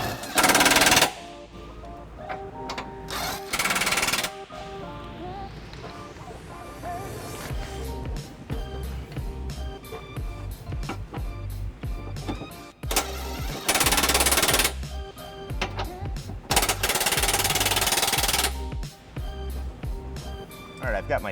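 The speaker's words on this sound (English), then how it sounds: "we're going to snug them up with the impact prior to giving them a final torquing with the torque wrench." An impact wrench rattles while snugging trailer hitch bolts on a 2012 Dodge Durango, in repeated loud hammering bursts of one to three seconds, close, with steady background noise in between.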